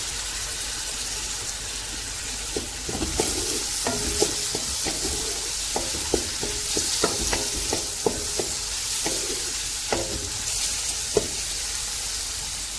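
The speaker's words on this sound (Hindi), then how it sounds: "अब मैं इसमें टमाटर डाल रही हूँ, सब्ज़ मिर्च," Tomatoes and green chillies sizzling and frying in a pan while being stirred, with a steady hiss under repeated clinks and scrapes of a spoon against the metal, close and continuous.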